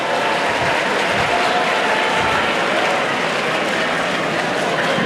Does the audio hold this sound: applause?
yes